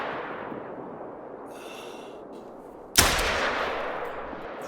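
A single loud pistol shot cracks out partway through and rings off in a decaying tail over a steady low hiss of hunting-game ambience in theHunter: Call of the Wild.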